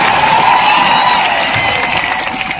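Crowd at a Vishwa Adivasi Diwas rally in Dungarpur, 2022, with steady, loud applause and cheering filling the clip continuously, a dense wash of clapping and raised voices throughout.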